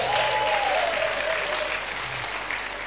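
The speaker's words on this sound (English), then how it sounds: "Give them a round of applause" Students at an academic talk on exam preparation applaud for the 100 level group, a steady round of clapping that gradually softens.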